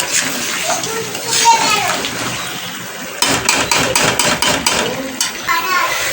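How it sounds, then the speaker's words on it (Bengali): Water splashes and pours into a pot of meat curry as it cooks, a hissing, splattering wash of sound followed by choppy bursts of stirring and spattering, with voices talking over it. "এবারে এটাতে খালি জল দিয়ে দেবো"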